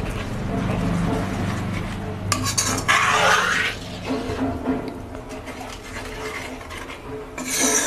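Milk with milk powder stirred in a pot for kheer, a steady scraping, rubbing swirl close by that rises briefly to a louder rasp midway, with light clinks of the utensil against the pan.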